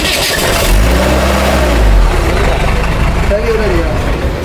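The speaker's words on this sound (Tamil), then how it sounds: "ஸ்டார்ட் வருது ஆனால் அந்த சத்தம் கொஞ்சம் வித்தியாசப்படுது சின்னனா ஒரு வித்தியாசமான சத்தம் வருது" An old van engine being started, cranking and then catching into a loud, steady mid-pitched idle with a slight odd undertone, close by, while someone talks over it.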